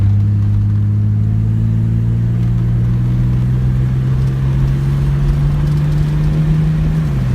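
A 1981 Datsun 280ZX T-Top engine pulls hard, its loud, close drone climbing steadily in pitch through one long acceleration before easing off at the end.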